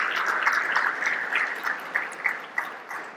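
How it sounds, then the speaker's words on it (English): A conference audience applauding, a sustained wash of many hands clapping at moderate distance that gradually thins toward the end. "if everybody could give a round of applause to Steve and his entire team"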